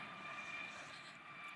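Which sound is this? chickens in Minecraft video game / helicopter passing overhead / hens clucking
helicopter passing overhead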